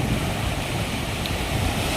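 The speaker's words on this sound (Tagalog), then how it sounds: "Tapos ito lumalakas na naman yung alon" Ocean waves surging at Manila Bay under dark, stormy skies: a steady, rushing roar of surf and wind that fills the whole moment without pause or any voice.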